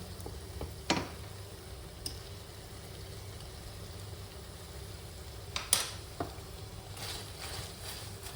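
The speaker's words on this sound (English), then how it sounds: "let's keep mixing this and taste it now" A spoon stirring tuna pasta in a pan makes a few scattered soft clinks over a faint, steady background murmur, quiet and close.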